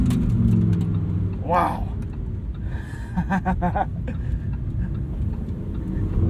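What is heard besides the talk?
Lamborghini Huracan Tecnica engine revving on throttle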